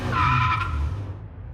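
A cartoon mini car skids to a stop, a loud squealing tire screech with a harsh tonal whine that sustains for about a second and then fades into a low rumble.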